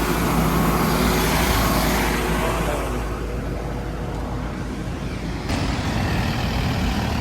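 Toyota Coaster saloon bus with a 4C automatic, engine running at idle, a loud steady rumble with a rushing air noise that dips midway and then swells back.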